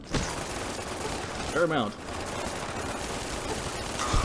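Rapid burst of nail-gun fire in Fallout New Vegas: Lonesome Road, a steady dense barrage running throughout at moderate level, with a brief spoken comment over the middle.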